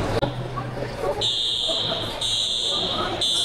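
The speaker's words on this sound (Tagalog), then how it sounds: "yung fire alarm, baka may nakapindot" An electronic fire alarm beeps in long repeating high-pitched tones, steady and fairly loud, over a low background hum.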